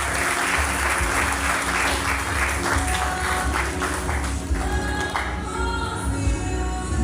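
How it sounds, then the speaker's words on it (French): Loud, sustained applause fills the room from an audience at a graduation ceremony, dense clapping that carries evenly throughout with a low hum underneath. "Je vous demande de les applaudir."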